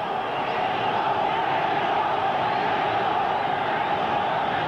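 A boxing arena crowd at a light welterweight world championship bout roars in a constant dense wash of voices, steady and loud with no breaks.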